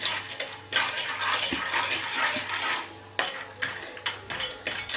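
Peanuts are sautéed in hot oil in a pan on medium heat, with repeated metal scrapes and clatter of a spoon against the pan over a soft frying hiss.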